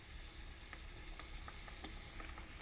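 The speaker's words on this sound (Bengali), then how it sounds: "কিছুক্ষণ আমি এইভাবে নেড়ে চেড়ে দেব।" Chutney is stirred in a pan over a low gas flame, giving a faint, steady sizzle with soft repeated scrapes of the spoon, close and quiet.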